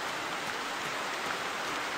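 Rain falls steadily in the hunting video game The Hunter, a soft, even hiss of drops that stays constant and fairly faint throughout, with no voices.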